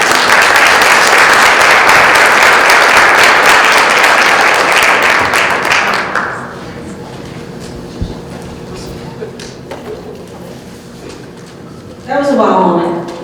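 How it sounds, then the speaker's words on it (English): A seminar audience at a lunch event breaks into a loud, dense round of applause that holds for about six seconds, then fades into quieter room noise with a few scattered claps and a brief voice near the end. "a great round of applause"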